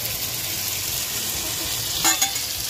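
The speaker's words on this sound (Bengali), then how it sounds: "এবার এর সঙ্গে একটু ঝিঙেটা দিয়ে একটু নাড়াচাড়া করবো" Ridge gourd and potatoes fry in a pan in a village kitchen, a steady, moderate sizzle with a couple of sharp utensil scrapes from stirring near the end.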